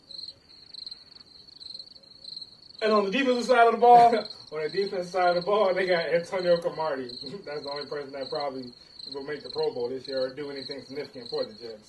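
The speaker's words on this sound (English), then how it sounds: "we're going to keep hearing those crickets in the background" Crickets chirp steadily and faintly throughout, a thin continuous trill running beneath a man's close, talkative voice.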